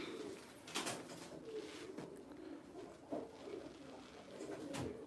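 Pigeons coo softly in a few low, rounded calls spread across the stretch, faint and somewhat distant against a quiet background, with no talk over them.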